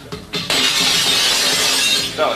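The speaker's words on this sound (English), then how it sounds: "I smashed the window" Window glass smashing, a loud bright shatter that sustains for over a second and a half as shards crash and scatter, then trails off.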